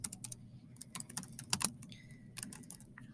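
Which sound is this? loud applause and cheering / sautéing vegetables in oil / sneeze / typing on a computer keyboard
typing on a computer keyboard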